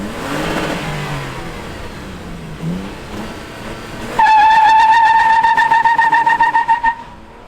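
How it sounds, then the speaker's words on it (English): A 2022 Toyota Tacoma TRD Pro with a 6-speed manual and a TRD catback exhaust revs its engine. A loud, close, steady tonal drone with rapid pulsing follows before it cuts off. "let's fire it up, because we got that TRD catback exhaust and hear what this Tacoma sounds like"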